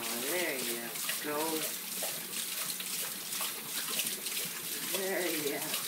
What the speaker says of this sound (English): Now watch the drinking.